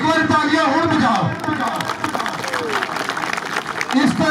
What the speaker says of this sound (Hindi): एक बार तालियां हुण बजाओ